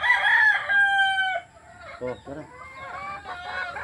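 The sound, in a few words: chickens, hens and rooster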